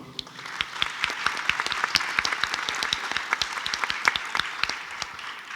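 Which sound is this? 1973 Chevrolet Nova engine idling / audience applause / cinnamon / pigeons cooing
audience applause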